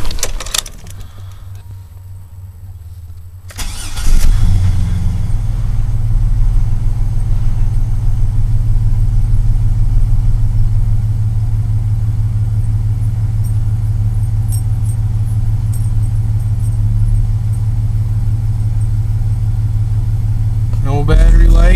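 A pickup truck engine running on its stock Delphi alternator starts up after a few seconds of near quiet, then settles into a steady, loud low idle that drones on for the rest of the clip.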